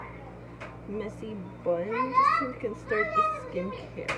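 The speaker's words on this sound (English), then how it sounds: "sorry if you hear all the kids in the background" Young children play and chatter indoors in the background, their high voices and squeals rising and falling while someone talks over them up close.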